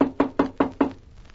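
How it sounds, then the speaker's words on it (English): A knock at a door in a radio crime drama: five firm, evenly spaced raps, close and distinct, with nothing else around them. "when a knock came at the door."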